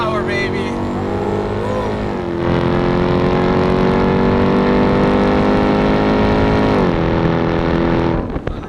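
Hennessey Mammoth 1000 TRX pickup truck, a 1000 hp build, accelerating hard with a loud, sustained engine roar rising through gears, with brief shift dips, heard from inside the cab.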